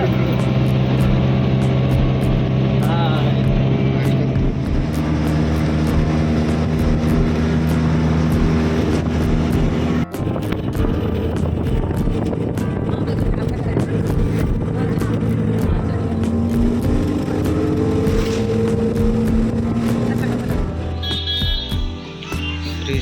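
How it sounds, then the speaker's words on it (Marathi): Auto rickshaw pulling up and driving on, its engine droning loudly and steadily throughout with shifting pitch as it moves, while people talk over it. "चला, आमची रिक्षा आली."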